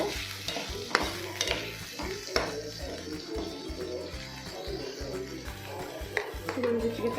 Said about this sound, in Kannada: ಟೊಮೆಟೊ ಸಾಫ್ಟ್ ಆಗೋವರೆಗೂ ಚೆನ್ನಾಗಿ ಫ್ರೈ ಮಾಡ್ಕೋಬೇಕು.